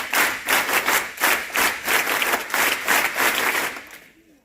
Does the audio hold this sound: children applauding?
yes